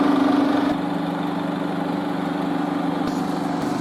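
A 35mm film projector with a large flywheel runs with a steady mechanical hum and whir, an even close drone that holds constant throughout.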